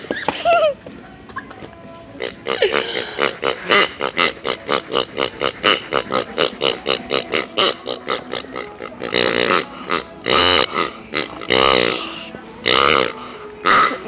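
Squeaky pig toys squeezed in a Meijer store, a rapid steady run of loud, rhythmic honking squeaks in close succession, then a few longer, more ragged squeaks, with voices talking in the background.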